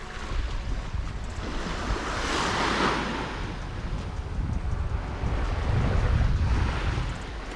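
Ocean waves roll in at Empurancak beach in Jepara, a steady wash of surf with swells building and fading, buffeted by wind noise on the microphone; no voices are heard.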